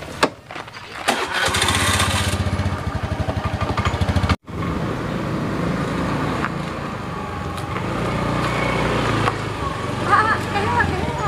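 A motorcycle engine starting close by: a sputtering, pulsing crank and catch that settles into a steady running drone, with people talking over it.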